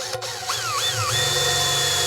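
A power drill with a 1/8 inch bit bores into a metal 55-gallon drum for a smoker build, motor whine rising and settling into a steady high hum over about two seconds.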